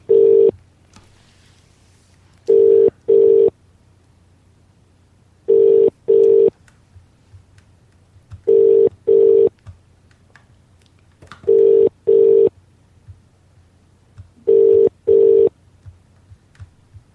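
A landline telephone plays loud paired DTMF dialing beeps, one pair about every three seconds, over a quiet low hum with no speech.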